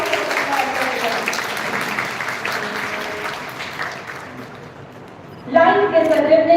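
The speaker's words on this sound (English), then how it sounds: "Please give them a huge round of applause." An audience at a National Youth Parliament ceremony clapping for guests, a broad steady wash of applause that fades out before a voice comes in over a loudspeaker.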